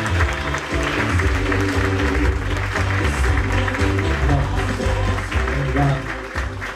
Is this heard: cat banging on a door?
no